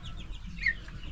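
Chickens clucking on a farm, a brief sharp cluck standing out over a low rumbling background, close and moderately loud with no talking.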